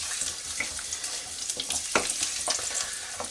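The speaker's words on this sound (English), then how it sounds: "I want to get my garlic, the remaining garlic, into the pan and give that a little stir around" Garlic sizzles in a pan while being stirred for Hainanese chicken rice, a soft continuous frying hiss with occasional scraping taps from the stirring, fairly quiet and with no voices.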